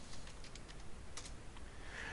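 Quick bursts of keystrokes tapped on a computer keyboard while entering a layer name in photo-editing software, a soft irregular clatter close by with brief pauses, no voice.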